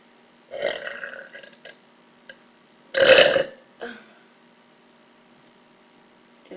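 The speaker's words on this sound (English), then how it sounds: "Gonna see if I can burp." A teenage girl burps loudly indoors, three separate belches with the middle one longest and strongest, set against a faint steady mains hum.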